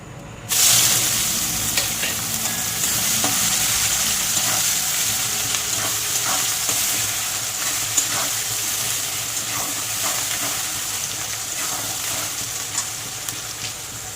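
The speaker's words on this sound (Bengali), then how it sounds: "এবার দিয়ে দেবো কেটে রাখা পেঁয়াজ।" Chopped onions hit hot oil in a pan while ghugni is cooked, giving a loud, steady sizzle and crackle that lasts throughout with a few faint stirring clicks and no talking.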